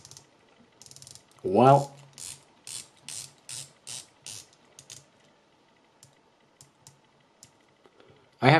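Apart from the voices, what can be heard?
rotating dive watch bezel clicking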